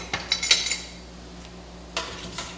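A metal spoon stirring melting cheese and broccoli in a pot, a burst of quick clinks and scrapes against the pan, then a pause and a few more taps, close and fairly crisp with no voices.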